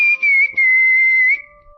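A single person whistles a clear, steady tune with short breaks, close and fairly loud, then it fades into quiet.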